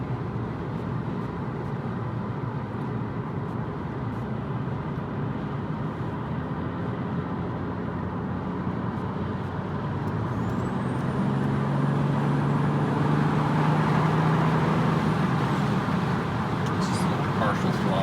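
MKIV Toyota Supra engine driving at partial throttle with gear shifts, a steady loud drone that holds for the whole stretch and rises a little near the end.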